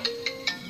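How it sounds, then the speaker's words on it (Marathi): A phone ringtone plays three short, bright electronic beeps in quick even succession, clear and close over a quiet background. "फोन आयलो"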